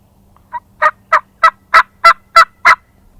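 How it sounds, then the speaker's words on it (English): A wild turkey gobbles during a spring hunt, a loud close series of about eight rapid rhythmic gobble notes, rising in strength, alone with no talk. "Hear that gobble?"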